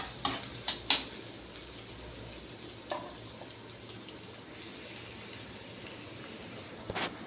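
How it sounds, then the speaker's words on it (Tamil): Onions sautéing in a pan over medium heat give a faint, steady sizzle, punctuated by a few sharp clinks of stirring at the start and again near the end; no one speaks. "வெங்காயம் ஆட் பண்ணிவிட்டு நல்லா கலரி கொடுங்க"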